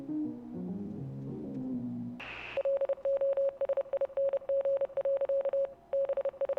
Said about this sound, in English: That sounds like Morse code